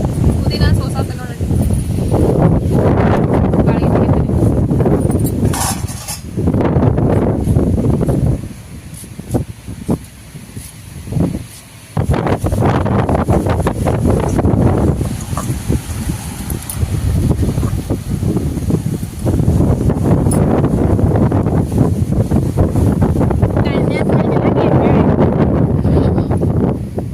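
Strong outdoor wind buffets the microphone in a rainy rural setting, a loud continuous roar that swells and drops, with people talking underneath throughout.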